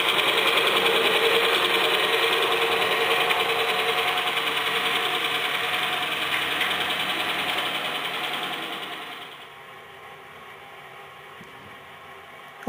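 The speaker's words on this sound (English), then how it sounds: "The sound you're hearing is the F7s we had on just a moment ago." Diesel-style engine hum from the sound decoder of model train F7 locomotives, a steady droning rumble with a buzzy mechanical whir that holds for about nine seconds, then drops to a quieter idle.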